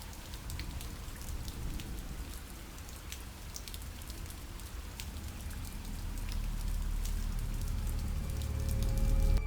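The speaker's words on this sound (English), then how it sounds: "On a stormy night, with the rain pelting down in relentless sheets, Alex found himself alone" Heavy rain pours steadily on a stormy night, a dense hiss of drops pelting surfaces with scattered crisp patters on top and a deep rumble that swells louder toward the end; no voices.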